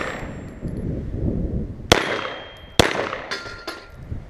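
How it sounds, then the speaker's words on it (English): Shots from a Desert Eagle 9mm (Baby Eagle) pistol fired at a target, heard as a few sharp cracks with metallic clangs of the hit ringing out, spaced about a second apart over a steady outdoor background hum. "Let's go ahead and just shoot my target here."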